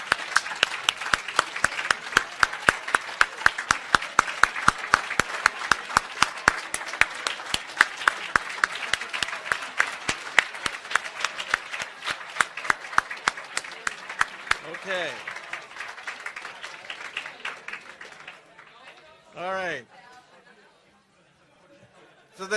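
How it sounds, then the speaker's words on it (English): Graduates at an ECE Day awards ceremony receive a long round of applause and clapping from the audience, dense and steady at first, then thinning out, with chatter and scattered voices heard near the end. "well-deserved round of applause."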